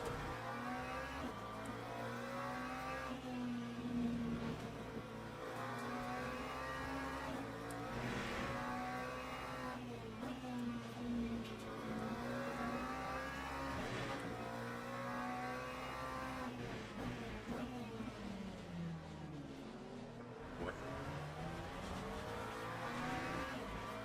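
Race car engines in a racing video game, a steady layered drone of several cars revving and shifting with rising and falling pitch, occasional tire squeal, continuous throughout.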